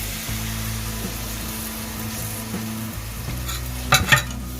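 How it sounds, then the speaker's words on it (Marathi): Gram flour stirred into a pan of tempered onion and turmeric for Maharashtrian pithla, a soft continuous sizzle with periodic scraping stirs and a louder clatter near the end. "आता हा मी पीठ पिठल्याचं घालते"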